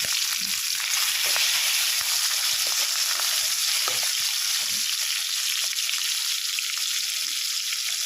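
Fish pieces fry in hot oil in a pan, a steady close sizzle with faint crackle, continuous and even with no talking.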